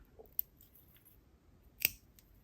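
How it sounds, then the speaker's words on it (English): Two crisp scissor snips cutting the cord tail on a beaded rope necklace, a light one followed by a sharper, louder cut a moment later, close up in an otherwise quiet room. "So let me snip it off."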